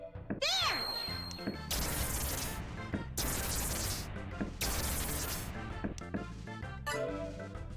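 Cat characters in Suikoden IV meowing amid battle, with rising-falling pitched cries near the start followed by loud crashing hit effects and bursts of game sound.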